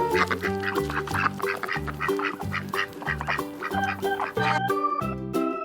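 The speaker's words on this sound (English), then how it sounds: "Duck." A farm duck quacks in a repeated, rhythmic series over a steady musical backing, fairly loud and close throughout.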